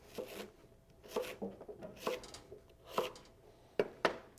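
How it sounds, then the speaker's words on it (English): A knife chopping a peeled yam into bite-sized pieces on a cutting board, a series of distinct, fairly quiet close-up chops at an uneven pace with no talking. "we'll cut this into bite-sized pieces as well"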